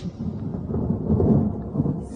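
Deep rolling thunder rumbling through a storm with rain falling, a low sustained grumble that swells and recedes over a couple of seconds, heard alone without voices.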